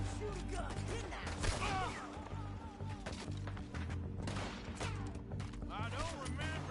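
Scattered gunshots and impacts from a gunfight in the Western game Red Dead Redemption, with a character named Sadie, popping irregularly under and between spoken dialogue.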